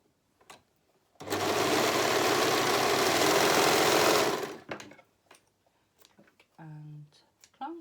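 A sewing machine stitches a rolled hem in one steady three-second run, close and fairly loud, then a short clunk follows and quiet handling noises remain.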